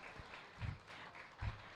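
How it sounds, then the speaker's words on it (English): An audience claps for young exhibitors at a 4-H county fair sheep show: steady, soft, distant applause lasting under two seconds, with a couple of low thumps. "Let's give these young people a round of applause for coming out."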